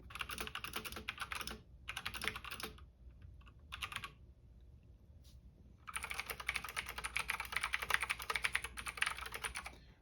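Keychron C2 mechanical keyboard with clicky blue switches being typed on up close, with quick bursts of sharp clacking separated by short pauses and a sustained run of fast typing at the end.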